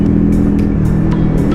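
Dense city rush-hour traffic in Riyadh heard during a motorcycle ride, a loud continuous engine and road roar with passing vehicles whooshing by.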